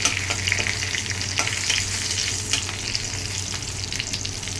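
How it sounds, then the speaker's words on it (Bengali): Two bay leaves and a few cracked small cardamom pods sizzle in hot ghee as the tempering for a sago pulao, giving a steady, close frying hiss scattered with light crackles and no voices. "এবার এখানে আমি 2টো তেজপাতা দিয়ে দিলাম ফোড়নে এবং দিয়ে দিচ্ছি কয়েকটা ছোটো এলাচ"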